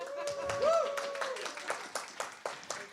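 A conference audience at a talk on game studios and higher education gives a few scattered claps, thin and sparse, starting faintly and spreading out over a couple of seconds beside a brief voice.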